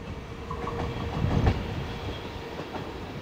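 A local train from Hundested pulling into Hillerød station, its rolling rumble and wheel clatter steady and fairly close, swelling briefly around the middle, with no voices.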